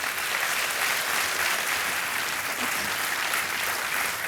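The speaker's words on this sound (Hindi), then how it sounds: "तालियां बजती रहें इनके लिए" A studio audience on a televised quiz show applauds a winning contestant, a thick, continuous wash of clapping held at an even level.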